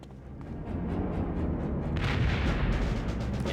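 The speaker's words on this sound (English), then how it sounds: "Grenade!" Grenade explosion in the Die Hard: Vendetta video game, a deep rumbling blast that swells and lingers as a heavy roar for a few seconds.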